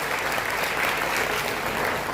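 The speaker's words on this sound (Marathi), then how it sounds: "प्राध्यापक गंगणे सरांसाठी एकदा जोरदार मनातून टाळ्या वाजल्या" A school annual gathering audience claps for a professor, a brief, steady burst of dense applause heard at moderate distance.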